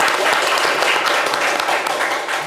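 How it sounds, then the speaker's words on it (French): A studio audience at a French-language talk show applauds loudly and steadily, a dense wash of clapping filling the whole moment. "Est-ce qu'on peut applaudir Sylvie bien fort"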